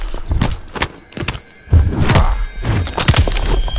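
A Batista bomb slam in Mortal Kombat X lands with heavy, close thuds and crunching hits amid busy fighting-game effects.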